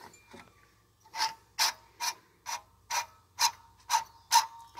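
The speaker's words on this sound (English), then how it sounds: "An itty bitty squirrel cage blower." A tiny squirrel cage blower runs with a faint, quiet hum while a sharp scraping tick repeats about twice a second, as if the wheel is catching on something, about nine evenly spaced bursts.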